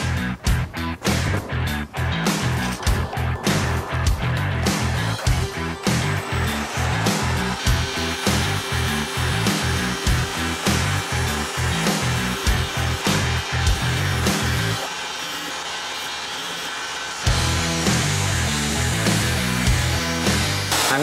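Continuous harsh grinding of a metal dagger blade on a 60 grit abrasive belt, loud and close, with a brief drop to a quieter whir before the grinding resumes.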